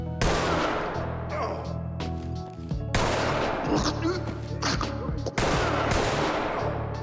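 Loud, close 9mm gunshots in the tactical shooter Ready or Not, sharp cracks fired in quick bursts of several rounds with brief pauses between volleys.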